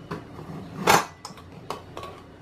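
A metal pressure cooker opened after cooking vegetable tahari: a few light metallic clinks, then a sharp louder clank of the lid near the middle, followed by softer scattered taps and rattles close by.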